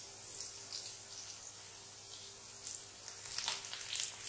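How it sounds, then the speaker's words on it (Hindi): Drops of besan batter for sweet boondi fry in hot oil in a kadhai, giving a faint, airy sizzle that swells louder toward the end. "तो एक बार में जितनी बूंदी आ सके अपनी कड़ाही में उतना हम डालेंगे"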